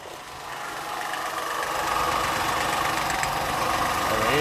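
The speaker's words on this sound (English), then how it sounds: "Now we have a running engine." A Vauxhall Corsa C engine runs steadily at idle after an immobiliser fix, a close, even mechanical hum that rises slightly in loudness, with no talking over it.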